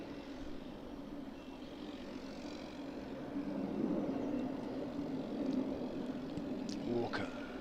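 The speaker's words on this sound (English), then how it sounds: "Sounds like a plane leaving or heading towards, or leaving East Midlands, I would suggest, given that it's pouring on the power." Fixed-wing airplane under heavy power near East Midlands airport, heard during a county cricket match. The engine drone is faint and distant, steady, and swells slightly midway.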